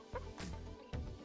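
Barnyard-mix chickens in a coop give a few short, soft clucks, brief and fairly quiet over low background noise.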